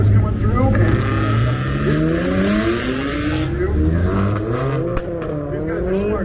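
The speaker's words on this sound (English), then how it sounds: "right-hand drive cars coming through" Right-hand drive cars driving past at the SEMA show in Las Vegas, loud engines revving and rising in pitch as they pass close by, with people talking over them.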